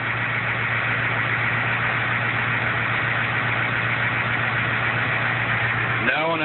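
A 1974 Ford 8000 truck's Caterpillar 1160 diesel engine idling steadily with a low, constant drone and hum, ending with a brief faint sound near the end.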